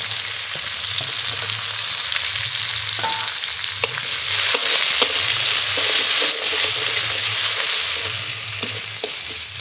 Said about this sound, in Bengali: এই তেলেই বেরেস্তার জন্য পেঁয়াজ ভেজে নেব।